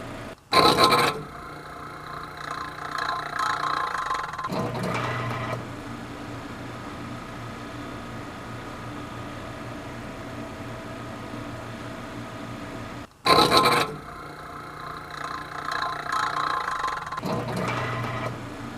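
A 1937 Frigidaire Deluxe refrigerator compressor runs after a dry start, making a steady low mechanical hum with a rough, scraping texture, broken by louder clunks and handling noise at its start and stop.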